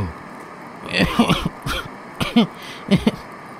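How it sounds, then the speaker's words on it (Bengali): A man coughs hard in a smoke-filled room after a wick falls and fills it with black smoke, a few harsh bursts and throat-clearing hacks close by against quiet background. "সে ভীষণ কাশতে শুরু করল।"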